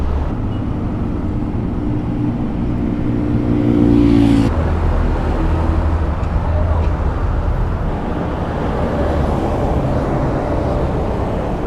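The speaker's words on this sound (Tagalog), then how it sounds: "Dito na yung motor ni Nisa ni Mark" Motor traffic rumbles close by on Polillo Island in Quezon Province, with a loud engine rising to a swell around four seconds and then settling into a continuous roadside drone.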